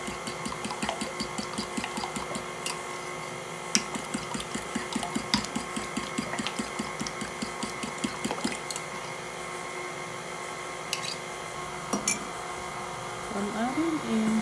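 A mixing machine whirs steadily while beating scone dough with egg mixture and cream, with faint rhythmic knocking throughout and a person talking over it.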